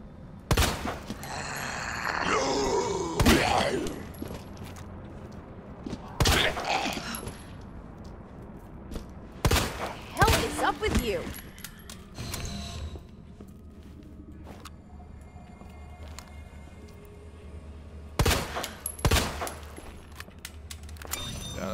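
Gunfire from a video game, the Resident Evil 2 Remake: several loud bursts of shots spaced across the span, with quieter footsteps and clatter between them and no talking.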